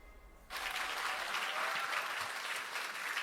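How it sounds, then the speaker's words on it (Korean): Applause for former president Moon Jae-in at a Democratic Party 70th anniversary ceremony erupts suddenly after a near-silent moment, then holds as a loud, sustained wash of clapping from a large hall crowd. "문재인 전 대통령님께 큰 박수 부탁드립니다"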